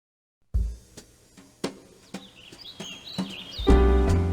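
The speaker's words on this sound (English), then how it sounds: "the grasshopper was singing and chirping and singing" A grasshopper in The Dark Fables of Aesop, a 1992 CD-I game, makes a run of sharp chirps at a slowly quickening rhythm, then a bright warbling song rising over a swelling musical tone.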